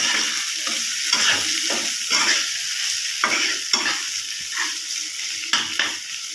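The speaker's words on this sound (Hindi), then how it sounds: "एबे सेथिरे आमे आलू दे दबा। दे भल भाबे मिसई नेबा।" Potatoes tossed with Mahurali fish in a frying pan sizzle loudly while a spatula scrapes and stirs in repeated strokes, a steady hot frying hiss broken by rhythmic scraping.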